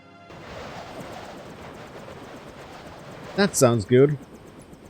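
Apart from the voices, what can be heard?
Jock's helicopter in video game Deus Ex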